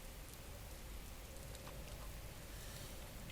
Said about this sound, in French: j'ai besoin qu'il arrête de pleuvoir